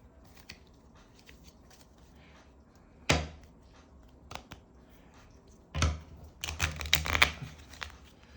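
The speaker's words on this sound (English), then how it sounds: "I'm going to shuffle these cards real quick." Playing cards for a language-learning board game are shuffled in a few crisp, riffling bursts, brief and close, with quiet pauses between them and a longer flurry near the end.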